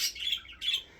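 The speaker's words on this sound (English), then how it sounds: "Sorry about my birds, y'all. They like to talk a lot when I'm talking." Pet birds chirp and squawk indoors in two bright, shrill bursts close by, with no voices.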